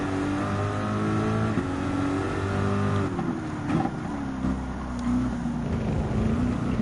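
Nissan GT-R Nismo GT3 race car engine in a Gran Turismo 7 Manufacturers Cup race, a loud sustained roar with harmonic whine that rises and falls through shifts and revving, continuous throughout.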